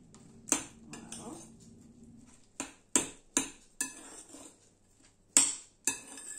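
A spoon and other cutlery clink against dishes while stuffed mushrooms are prepared, with about ten sharp, close, irregular clinks separated by quiet gaps.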